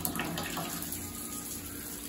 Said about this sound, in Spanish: Ya se le abre a la válvula del agua caliente. Vean, la vamos a abrir